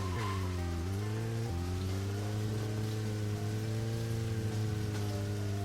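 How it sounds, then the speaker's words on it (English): Rain falling in the video game Deadly Premonition, a constant hiss under a steady droning engine-like hum that dips briefly early on, no voices. "because it is raining"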